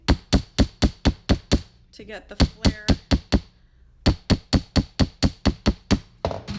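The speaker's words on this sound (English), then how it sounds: "So again, I'm hammering down, but I'm also kind of pulling away" A hammer strikes copper wire being shaped into a tree decoration in quick, regular, loud close taps, in bursts with a short pause, while a person speaks briefly between strikes.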